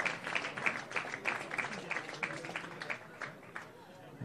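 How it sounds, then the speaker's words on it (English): At a semi-final football match, the crowd gives a substituted player a round of applause as he leaves the pitch. The clapping sounds moderately distant, under a commentator's voice. "He gets a generous round of applause"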